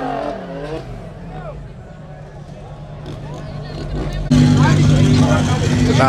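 A BMW E36 wagon, right-hand drive on D-piece wheels, revs at a busy car meet, its engine note jumping loud and close in the final seconds after a steadier idle, with voices chattering around it.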